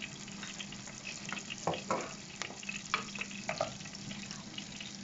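Green chilies frying in a pan for spicy fish curry, a soft continuous sizzle with scraping stirring strokes and a few louder clatters, no talk.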